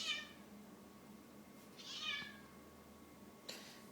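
A cat meows softly two or three times in a quiet room, each call brief and drawn-out, with pauses in between and no talking.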